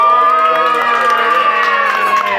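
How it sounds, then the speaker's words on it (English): Crowd cheering and whooping with harmonic shouting voices fills the space in a candy shop during a candy cane demonstration, loud and sustained throughout. "Let's all give a big round of applause for candy cane number 1."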